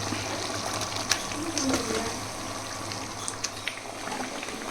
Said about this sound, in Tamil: இப்போ நல்லா கொதி வந்துடுச்சு